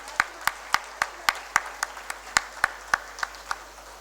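Sparse, individual hand claps ring out at an award ceremony for workers, roughly a dozen distinct sharp claps in a loose, uneven rhythm, fairly close and moderately loud with no talking over them.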